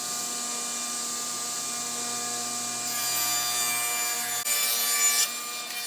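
A table saw runs with a steady whine as it cuts a wood panel held on a crosscut sled, growing louder and brighter partway through, with a brief dip near the end; no talking.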